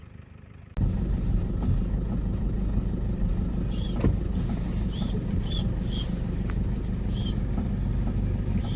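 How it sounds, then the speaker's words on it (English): A car crawling through morning traffic, with a steady low engine and road rumble heard from inside the cabin, a few faint higher squeaks or chirps over it, and no talk. "I'm stuck in traffic this morning"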